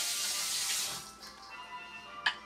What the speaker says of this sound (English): So I'm going to wash the fish, and when you're washing it, you wash it with cold water